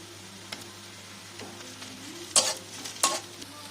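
Onions frying with a spoonful of ginger for mixed mung and masoor dal, a soft steady sizzle broken by a few louder scrapes and clatters of stirring in the pan, no one speaking.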